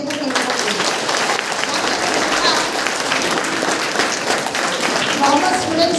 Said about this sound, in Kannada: ಇವತ್ತು ಅವ್ರಿಗೊಂದು ನಿಮ್ಮೆಲ್ಲರಿಗೂ ಅವ್ರಿಗೊಂದು ದೊಡ್ಡ ಚಪ್ಪಾಳೆ ಕೊಡಿ ಅಂತ ಕೇಳ್ಕೊಳ್ತೀನಿ.